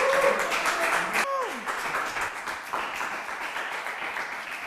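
An audience at a university late-show production applauds for Pablo, a steady broadband clatter of many hands that starts loud and slowly thins, with a brief voice and a falling tone breaking in early on.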